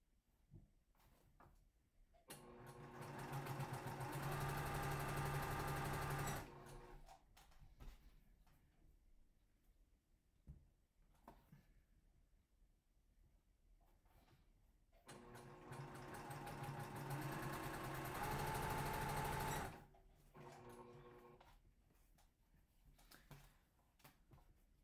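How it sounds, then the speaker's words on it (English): A sewing machine stitches two small fabric squares placed right sides together, running in two loud, steady bursts of several seconds each, separated by quieter pauses with faint handling noise. "Just take two little squares and put them right sides together and just sew them."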